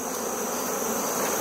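Honey bees buzz steadily around an open beehive during winter preparation, the brood box being set back on top; a dense, continuous close-up hum with no talk.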